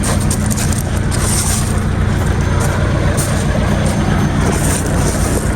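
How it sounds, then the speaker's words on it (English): A stuck semi truck spins its tires, a loud, unbroken roar of engine and grinding rubber that holds steady the whole time without any voices. "The tires are spinning because it's stuck right here"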